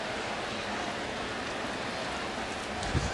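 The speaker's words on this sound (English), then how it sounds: "now the rain's coming really hard again" Heavy rain pours down over a St. Louis baseball stadium during a San Diego at St. Louis game, a steady, dense hiss with no pauses and a brief low thump near the end.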